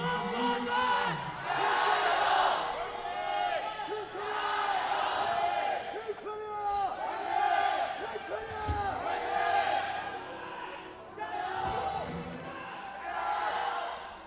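Crowd of fans cheering and shouting at the 2018 Asian Games League of Legends grand final between China and South Korea, a loud, sustained arena roar with swelling whoops, running under commentators' talk.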